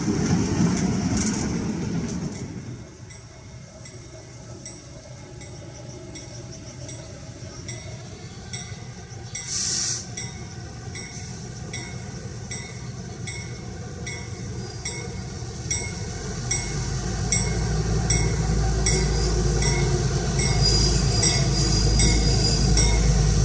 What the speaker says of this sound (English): our train arrives back at Kempton Station after a beautiful ride through the countryside